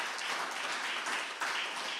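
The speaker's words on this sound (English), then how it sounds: "the big applause for Father Henryk" Conference audience applauding for Father Henryk at an academic gathering in Lublin: a dense, steady wash of many hands clapping together, sustained at an even loudness for the whole stretch without any talk.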